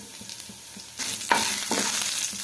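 Mustard seeds popping alongside urad dal and cumin frying in oil for fenugreek rice, a soft tempering hiss that suddenly intensifies into loud close sizzling with stirring clatter and a few sharp crackles.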